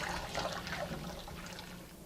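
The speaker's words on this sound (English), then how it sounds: "knead the dough inside the bowl and the water" Seitan dough being kneaded by hand in a bowl of water, giving steady sloshing and splashing close by with soft trickles, continuous and without voices.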